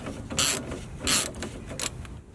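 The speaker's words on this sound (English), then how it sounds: "so while Zach's tightening that" A ratchet tightening a vehicle brake cable clicks in several short, crisp bursts with pauses between them, close up and fairly quiet, with no talking.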